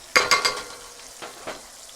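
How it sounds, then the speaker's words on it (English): Butter and flour cook into a roux in a pan, a short burst of three quick sizzling scrapes followed by two softer stirring strokes against a faint steady hiss. "you can take some butter and flour and cook it a little bit, make like a brown butter"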